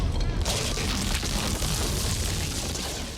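An earthquake sound effect for a temple scene, with dense, loud rumbling and grinding of moving stones under a deep boom, continuous throughout and fading slightly at the end.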